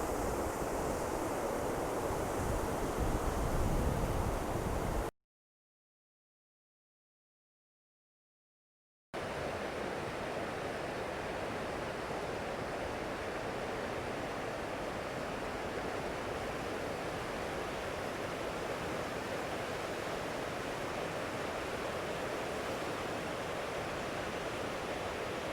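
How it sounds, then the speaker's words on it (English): Water of the Rappahannock River flows in a steady, broad rushing wash, fairly quiet and continuous, broken by a few seconds of complete silence early on. "This is the Rappahannock River."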